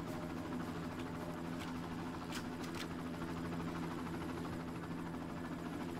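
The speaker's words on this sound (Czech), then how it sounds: "doufám, že ten vrtulník si mě nevšimne" A helicopter in the video game Far Cry drones with a steady, continuous engine and rotor hum that holds even throughout, with a few brief higher flicks over it.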